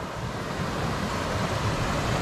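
A brimming forest stream runs high after heavy rain, a dense, continuous rushing wash heard close and loud with no voices.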